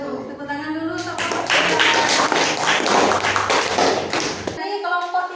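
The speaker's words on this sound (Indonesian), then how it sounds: "Tepuk tangan dulu untuk" Clapping from a classroom audience for a presenting student group during an Islamic ethics (akidah akhlak) lesson, a burst of dense applause lasting about three and a half seconds before cutting off abruptly, with voices faintly around it.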